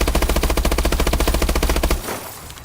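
Rapid automatic gunfire at a 15-meter firing range in Call of Duty: Advanced Warfare, a steady loud burst of evenly spaced shots for about two seconds, then stopping abruptly into quieter background.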